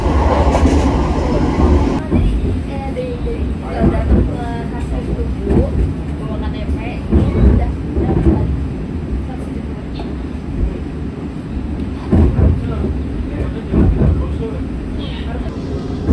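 Argo Dwipangga executive train running through Kebumen station without stopping, a steady loud rumble of wheels and carriage noise throughout, with clattering bursts and people talking over it.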